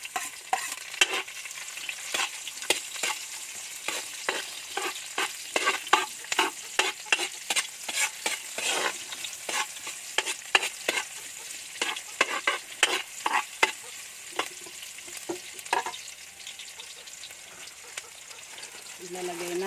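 Onions frying in a pan for pancit canton: a continuous sizzle broken by rapid, repeated scraping and clacking of a utensil stirring against the pan, close up, easing off near the end.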